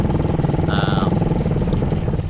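Raider R150 motorcycle with a 34mm carburetor and 68mm piston idling close up, a loud, steady rapid engine putter with a brief higher whine partway through.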